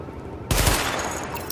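Rapid automatic gunfire at highlighted targets during a weapon test in The Division, a loud sustained burst of shots starting abruptly after a quiet moment.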